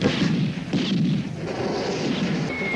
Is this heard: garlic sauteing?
no